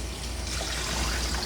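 Steady running water rinses a tiny Papillon-Pomeranian mix during a full grooming, a continuous close splashing trickle with no pauses over the short stretch.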